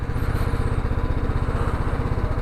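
A motorcycle engine idles close by at the Iraq border crossing, a steady rapid chugging pulse that is loud and even throughout, with no talking.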